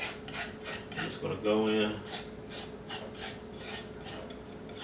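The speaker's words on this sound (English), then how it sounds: "don't you just love the sound of that palette knife scraping against this hard surface?" A palette knife scrapes paint across a hard painting surface for a small 9x12 cross painting, giving repeated raspy, rubbing strokes up close, with a brief voice speaking near the start.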